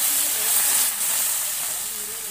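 Rice flour dosa batter poured in a round on a hot pan gives a steady, loud hissing sizzle that holds evenly all the way through, with no voices over it.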